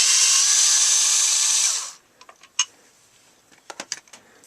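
A power driver whirs loudly and steadily while backing screws out of a Skilsaw MDL 5150 circular saw housing, then stops abruptly, followed by several small clicks and taps of parts being handled.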